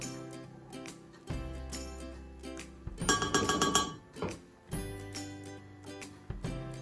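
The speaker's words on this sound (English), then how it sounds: "we're going to take our egg and crack it into a jug" An egg cracked into a jug, heard as a series of close glassy clinks and knocks with a denser rattle in the middle, no talking.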